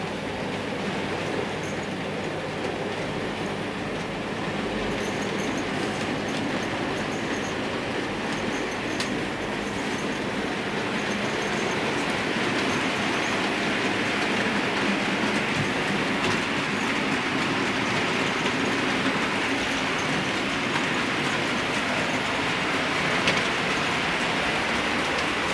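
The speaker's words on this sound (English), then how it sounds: "A mixed freight in the opposite direction." A mixed freight train passes at a steady pace, with a continuous broad rumble of wheels and wagons and occasional clicks and faint squeals throughout.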